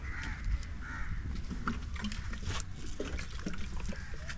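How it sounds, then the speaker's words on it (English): Birds call at scattered intervals in a quiet African village countryside at morning, short faint chirps and caws over soft background noise and a trickle of water. "the call of birds"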